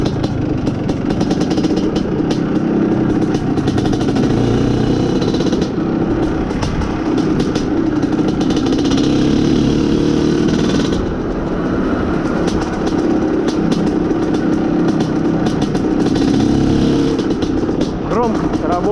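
An Izh Planeta Sport motorcycle engine, running poorly on a lean fuel mixture, holds a loud, steady, rough drone for nearly twenty seconds without a break.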